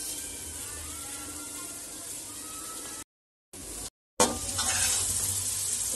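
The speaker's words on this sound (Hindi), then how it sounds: "तो प्याज भी अच्छे से फ्राई हो गई।" Onions fry in a pan for biryani with a steady loud sizzle, broken by two short dropouts before the hissing returns stronger.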